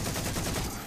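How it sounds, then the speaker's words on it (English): An assault rifle in Halo 4 fires a short, rapid burst of close, punchy shots in quick succession, lasting under a second. "So I'm just kind of chucking grenades and firing away with my AR"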